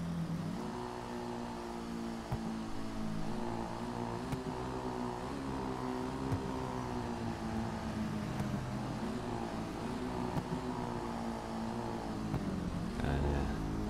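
Manchez dirt bike in GTA 5 Online coasting with the throttle rolled off, a steady engine drone with wavering pitch running close and continuous throughout, dipping briefly near the end.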